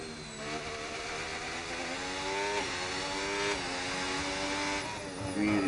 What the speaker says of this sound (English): Really don't like the sound of that engine either. Very, very tinny.